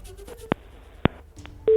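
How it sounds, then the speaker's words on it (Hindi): Telephone line tones after a disconnected call: a few short beeps and clicks followed by a steady tone starting at the end, fairly faint and heard alone. "मुझे लगता है फोन डिस्कनेक्ट हो गया है।"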